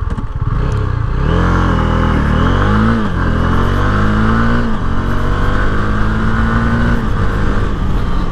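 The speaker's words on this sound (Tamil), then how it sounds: "இப்போ நம்ம 0 to 60 எவ்வளோ டைமில் ரீச் ஆகுதுன்றதை பார்த்துடலாம்." A Honda CB 300F motorcycle accelerating hard from a standstill, the engine revving up through several gears with rising pitch and brief drops at each shift, loud and close, with no talk.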